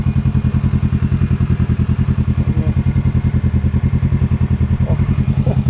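A Kawasaki Ninja 650 motorcycle engine idling close by, a steady, even low thrum of rapid regular pulses with slight mechanical clatter, heard alone without talk.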